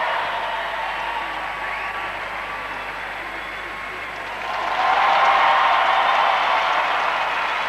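An arena crowd at the 2002 Salt Lake Olympic pairs figure skating short program applauds, a broad steady wash of clapping that swells louder partway through, with a commentator talking over it.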